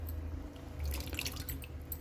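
Water is poured into a pot of washed toor dal, a short, soft splashing and dripping close by, fairly quiet.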